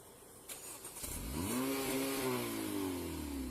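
A suspect's car engine at a police traffic stop catches and revs, then climbs into a loud, sustained roar as it accelerates away, steady after about a second of quieter background.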